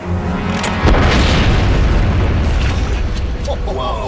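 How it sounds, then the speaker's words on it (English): A scale-model dam is hit by the equivalent of a 10-ton bomb, a sudden loud, deep boom that rolls into a sustained roaring rumble of blast and spray lasting several seconds. "trying to blow up an obsolete dam with the scale equivalent of a 10-ton bomb"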